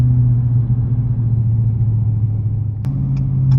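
A 2022 Dodge Challenger R/T accelerates up a highway on-ramp, its engine a loud, steady low rumble and drone heard from inside the car, with a few clicks near the end.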